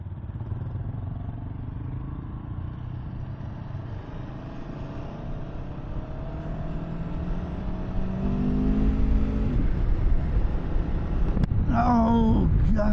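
A 2024 Aprilia Tuono V4 1100 Factory motorcycle ridden on the road, its engine droning steadily under wind rush, then climbing in pitch as it accelerates, with a sharp rising rev near the end.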